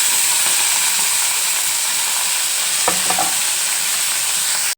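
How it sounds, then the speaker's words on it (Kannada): Whole spices fry in hot oil for a chicken biryani, a steady, loud, close sizzle and hiss that runs unbroken, with a couple of brief stirring scrapes partway through. "ಆಯಿಲ್ ಹಾಕ್ಕೊಂಡು ಮಸಾಲೆ ಐಟಮ್ಸ್ ಎಲ್ಲ ಹುರ್ಕೊತಾ ಇದ್ದೀನಿ"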